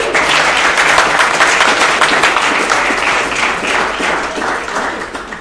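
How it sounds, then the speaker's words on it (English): An audience at a tech meetup breaks into sustained applause, a dense wash of clapping hands that stays fairly loud and even throughout, with a faint murmur of voices beneath. "give a round of applause for Beth."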